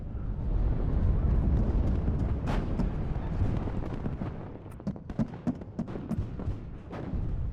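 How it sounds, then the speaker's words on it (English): A BMP fires its main gun in the WARNO war game amid a rumbling battle of booms and explosions, with a heavy opening blast followed by a run of sharp, rapid impact bangs. "that BMP one actually hitting the mark there with its main gun"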